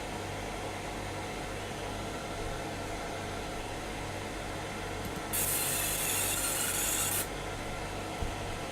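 A laser marking machine engraves a part, giving a steady bright hiss that starts abruptly, holds for about two seconds and then cuts off, over constant background machine hum, with no talk.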